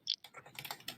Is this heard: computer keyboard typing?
yes